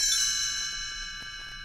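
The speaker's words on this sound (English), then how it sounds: "You will know it is time to turn the page when you hear the chimes ring like this." A bright, shimmering chime rings out and slowly fades, its high tones sustaining over a soft hum.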